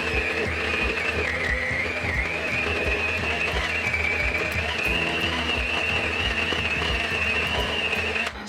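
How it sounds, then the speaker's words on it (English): A hand mixer whirs steadily as it whisks cream cheese in a bowl for a keto cheesecake, a continuous close motor whine with faint rhythmic knocks of the beaters against the bowl. "take my hand mixer, and we're gonna whisk this up until it is nice and fluffy."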